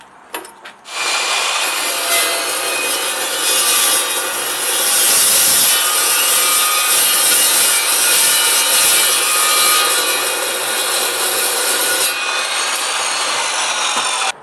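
An Evolution carbide-blade metal chop saw slices through metal in one long, loud, continuous cut, a harsh high grinding whine that starts abruptly and cuts off near the end.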